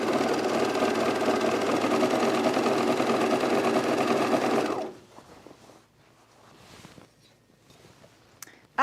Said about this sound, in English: I think I can still get in there to top stitch